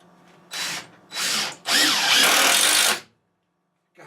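A power drill drives a screw into a wooden shelf board in three loud whirring bursts: two short pulls, then a longer run that pitches down as the screw seats, followed by silence.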